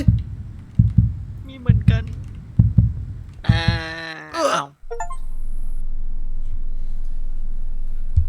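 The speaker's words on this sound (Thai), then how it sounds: "ทำไมมีเสียงหัวใจ" Heartbeat effect in the Backrooms horror video game, a run of low thumping pulses near the start, followed by a loud wailing tone, with players talking over it.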